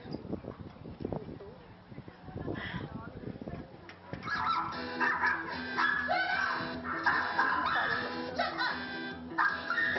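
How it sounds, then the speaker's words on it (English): Several pet dogs bark loudly and repeatedly during a lecture on dog behaviour. The barking grows denser and more continuous partway through, with voices talking underneath. "the dogs continue to bark in the way that they did"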